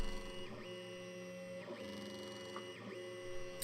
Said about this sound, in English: It seems to be printing